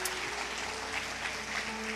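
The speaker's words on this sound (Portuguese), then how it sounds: "Dê uma salva de palmas para o Daniel aí" Steady, dense audience applause fills a church community service, continuous clapping at even loudness from start to finish with no voice over it.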